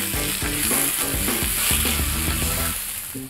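Onions sauté in a pan with a dense, loud, continuous sizzle and frying crackle, close up, alongside some clinking as they are stirred.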